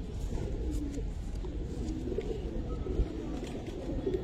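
Giribaz pigeons coo softly and repeatedly in a low, murmuring flock chorus, close by and continuous over a faint background hum.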